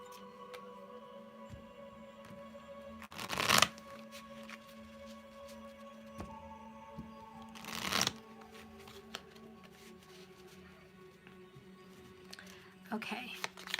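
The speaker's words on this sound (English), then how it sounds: "Let's get some cards here. We'll do my little bubble oracles." Oracle cards shuffle close by in two short, brisk riffling bursts with a softer flutter near the end, over a quiet background hum.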